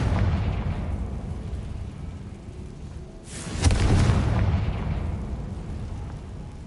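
Blasting-spell explosion in Hogwarts Legacy, a single booming burst midway through, rising sharply over low rumbling background and then decaying into a lingering roar.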